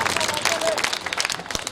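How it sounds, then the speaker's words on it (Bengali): A picnic crowd gives a director a round of applause, scattered claps and a murmur of voices blending with talk nearby, moderately loud and uneven. "তার জন্য জোরে একটি হাততালি"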